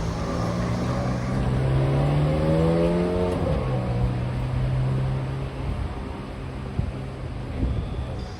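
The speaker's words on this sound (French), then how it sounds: "Ok, bah Ferrari F430 Scuderia." A Ferrari 430 Scuderia accelerates past on a Deauville street, with a loud, high-revving engine that rises through the gears before fading into the distance.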